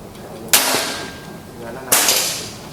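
Two sharp shots from a Bocap FX Mahameru PCP air rifle, each a crisp, loud crack followed by a short decaying ring, spaced about a second and a half apart.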